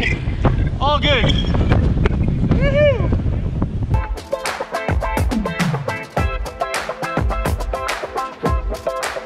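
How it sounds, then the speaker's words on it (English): Steady wind noise buffets the microphone throughout on a group bike ride in the Netherlands, with harmonic vocal-like sounds and rhythmic horse hoof clopping layered on top, loud and close. "So today it's already pretty windy, as you can see."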